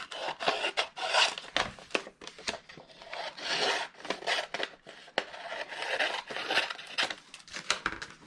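Scissors trimming material for a small decorative nesting box, a run of close, dry rasping snips and rubs in uneven bursts with short pauses, heard alone.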